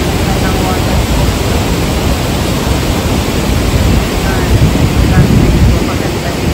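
A waterfall roars as a dense, loud, unbroken wash of rushing water that fills the whole scene with no breaks.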